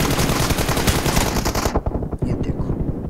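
Loud, rapid automatic gunfire in the mobile game PUBG Mobile during a team deathmatch, dense bursts that then break into scattered shots, with a voice speaking underneath.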